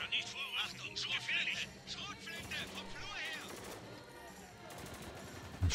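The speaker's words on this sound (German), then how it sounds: "Schießen einfach ab." Gunfire in the video game Spec Ops: The Line, rapid bursts of automatic shots and scattered reports crackling throughout, layered with game voices and chatter in a chaotic combat mix.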